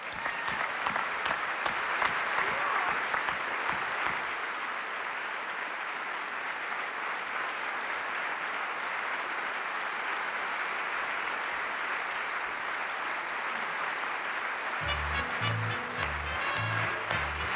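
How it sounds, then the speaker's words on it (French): A show audience applauds the performance, the clapping loud at first and then settling into a softer, sustained ovation, with a brief voice and tonal sound rising near the end. "Je vous demande d'applaudir tout le monde très fort!"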